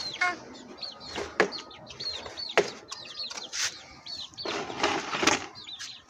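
Domestic chickens cluck repeatedly close by, a busy run of short overlapping calls with a few louder squawks, heard on their own without talk.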